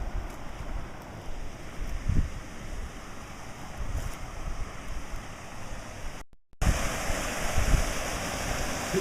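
Spring water flowing steadily at Roaring Spring, Pennsylvania, a public drinking-water spring, giving a continuous rushing wash close by, briefly cut out near the end before resuming.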